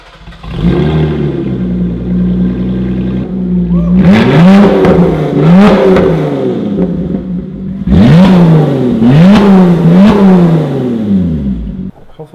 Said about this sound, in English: we're gonna see what the Lotus sounds like with a muffler delete